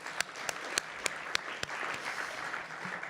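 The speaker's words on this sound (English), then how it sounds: "Let's give him a round of applause." Audience applause at a tech community event, a crowd clapping steadily for the event's MC, with a few sharp, close claps standing out over the dense wash of hands.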